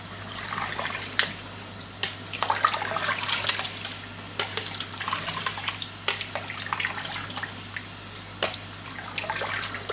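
Water poured into rice in a pot for smoked chicken pulao, an irregular splashing and gurgling that runs close and fairly loud with uneven bursts for about ten seconds over a faint steady hum.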